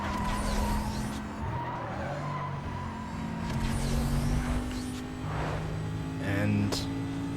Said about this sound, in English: And on the brakes for this corner here.